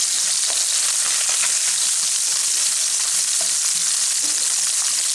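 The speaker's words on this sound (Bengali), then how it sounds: "আমি যেহেতু মাছের টক বানাবো তাই মাছগুলোকে খুব বেশি ভাজবো না" Small puti fish frying in oil in a pan, a loud dense continuous sizzle with crackles popping through it, close up and with no voices.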